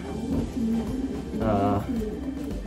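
A racing pigeon gives soft, throaty coos close by. A low repeated cooing swells once in the middle, and a voice murmurs quietly underneath.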